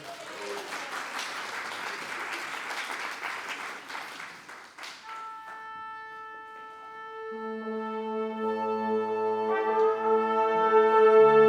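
Applause from a chamber concert audience for the San Marcos SMART Orchestra, a dense even clatter for about five seconds, then fading as instruments tune with sustained tones that grow louder.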